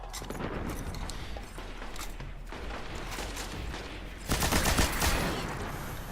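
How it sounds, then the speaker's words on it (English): Rapid bursts of heavy cannon gunfire boom repeatedly in Destiny, continuous and loud, with a stronger blast of firing near the end. "So let's use the heavy cannon for a little bit"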